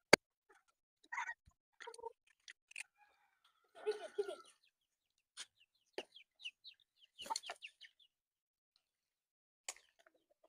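Chickens cluck and squawk in short scattered bursts, fairly close, with quiet gaps between calls.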